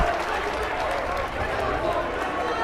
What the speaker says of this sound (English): Both student sections are up loud and cheering